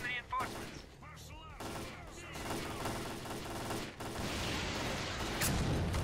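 Gunfire and rocket fire in S.T.A.L.K.E.R.: Clear Sky during a firefight, with bursts of shots and mechanical clatter that build into dense, continuous noise. A voice talks over the first part.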